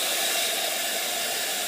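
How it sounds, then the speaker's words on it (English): A heat tool blows hot air to dry spray inks on glossy card, a loud, even, broadband rushing hiss that holds steady and close throughout with no other sounds. "you then use your heat tool"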